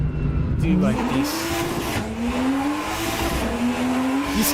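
Loud 1000-horsepower race car engine in the Assetto Corsa driving game, revving and rising steadily in pitch through the gears with some tire squeal, continuous and close, with a voice speaking over it.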